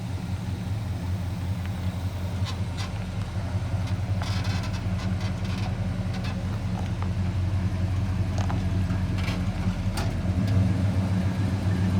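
A 1970 Chevy pickup truck engine idles steadily and loudly up close, a deep continuous rumble running throughout with a few faint higher clicks and rattles over it.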